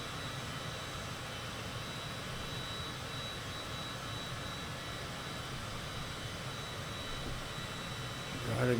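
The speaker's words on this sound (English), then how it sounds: "Citation CJ4." Cessna Citation CJ4 business jet in Microsoft Flight Simulator 2024 gives a steady, even jet-engine roar with a thin high whine, unbroken and fairly quiet for the whole stretch.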